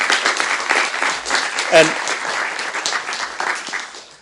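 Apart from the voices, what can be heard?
audience applause for students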